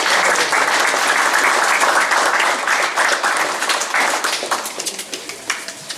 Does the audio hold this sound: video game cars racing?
no